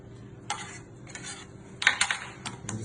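Bitter gourd and potato fry is flipped in a very hot pan, giving a few sharp metallic scrapes and clatters of a spatula against the pan over a low background sizzle.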